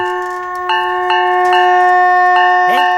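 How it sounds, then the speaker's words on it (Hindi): A sustained ringing bicycle bell tone with a few sharp strikes layered over it, steady and fairly loud, ending with a brief rising squeak. "पियून के साइकिल की घंटी।"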